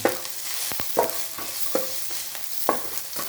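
Water spinach stir-fried in a wok with garlic and chili, the spatula scraping in sharp repeated strokes over a low steady sizzle, close and alone with no voices.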